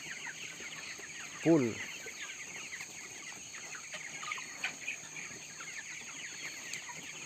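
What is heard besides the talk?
22-day-old broiler chickens in a poultry house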